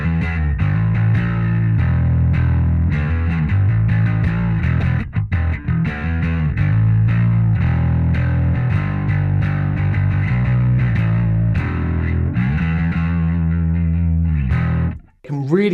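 A passive P bass runs through a Big Booty Judy Rat-style drive pedal into an Ampeg Venture amp, a continuous distorted bass riff with gritty, buzzing overtones that plays loud and close before briefly cutting out near the end.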